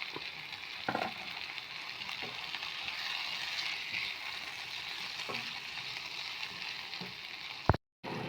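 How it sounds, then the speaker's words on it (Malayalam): Chopped tomatoes with salt sizzle and fry in a pan while being stirred, a quiet continuous crackle broken by occasional scraping strokes, with no talk. "ഇതൊന്ന് ഇനി പച്ചമണം ഒന്ന് മാറുന്ന വരെ നമുക്കൊന്ന് ഇളക്കി കൊടുക്കാം"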